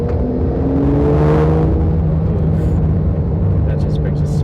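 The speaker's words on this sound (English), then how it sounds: "The swirly swirl of the turbos." A 2024 Porsche 911 Carrera GTS pulling in third gear at low revs, its engine drone rising steadily with a faint swirling turbo whistle over road rumble inside the cabin, a voice talking throughout.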